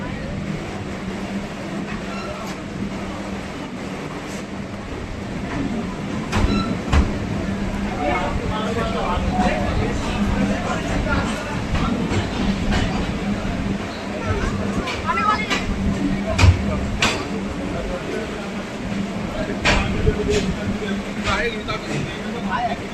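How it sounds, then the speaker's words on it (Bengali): A Diamond Harbour local train pulls into Ballygunge station with a steady rolling rumble and scattered clanks and squeals, under a busy platform murmur of crowd voices. "আমাদের ট্রেন প্রবেশ করে গেছে বালিগঞ্জ স্টেশনে"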